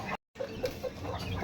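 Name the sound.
large chicken clucking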